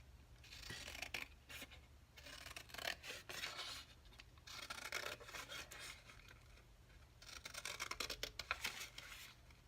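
Scissors cut out a paper flower template with repeated soft snipping and rasping paper sounds in several bursts, close and quiet over a low hum.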